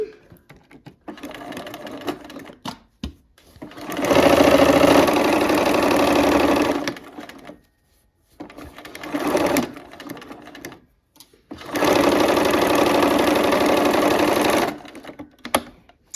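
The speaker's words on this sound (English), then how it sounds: "Let's go ahead and sew that seam." A sewing machine stitching a quilt seam, two sustained bursts of loud rapid whirring with quieter start-and-stop stitching and small clicks between them, close by.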